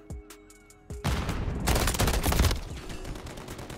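Rapid automatic fire from a DG 56 rifle in MW3 rattles out loud and close in dense bursts after a few sharp isolated shots, with game sounds around it.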